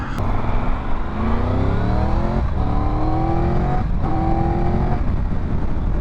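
A 2022 Triumph Tiger 1200 GT Explorer motorcycle engine runs loudly up close, revving up through rising pitches and briefly dropping between gear shifts, with no voices.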